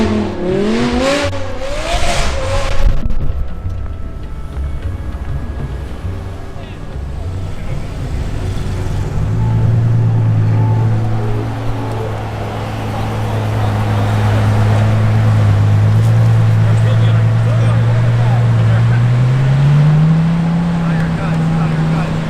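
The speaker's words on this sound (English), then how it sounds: "So this is how you destroy tires in a Huracan." Lamborghini Huracan on a rally stop doing a tire-destroying burnout, with the engine droning and rising into a sustained high rev that holds loud and steady before climbing at the end, mixed with crowd noise and voices early on.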